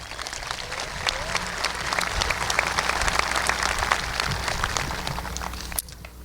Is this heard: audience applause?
yes